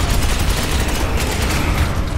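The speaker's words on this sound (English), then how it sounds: "you're still on overwatch, so you will be able to blast away at that Tintin" Overwatch fire in the Space Hulk game comes as a continuous heavy, rumbling barrage of rapid shots, loud and close throughout the short burst.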